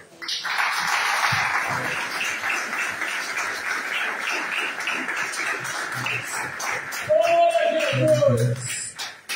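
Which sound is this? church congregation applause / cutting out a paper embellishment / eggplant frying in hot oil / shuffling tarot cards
church congregation applause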